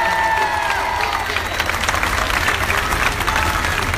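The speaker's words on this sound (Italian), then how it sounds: "un grandissimo applauso a una grande persona, Luigi Di Maio." A crowd applauds loudly at an outdoor political rally in a Palermo square, dense continuous clapping with some cheering, close and filling the space.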